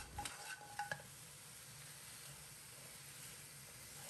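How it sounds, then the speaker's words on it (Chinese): Blanched pig trotters stir-fried in a wok for braised pork trotters, opening with a few bright metallic clinks and scrapes of the spatula, then a low steady sizzle continuing quietly, no speech. "在锅中翻炒2分钟，使猪蹄快速上色。"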